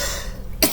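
A person coughs once, a short sharp burst right at the end of the moment, following a stretch of quiet background.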